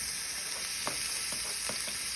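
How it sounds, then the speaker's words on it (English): Scallops searing in hot chorizo oil give a dense, steady sizzle close by, with a few soft pops and light scrapes cutting through the hiss. "Chorizo oil is going pretty good, got it nice and hot. So we're gonna add our scallops."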